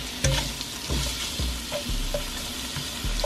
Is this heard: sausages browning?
yes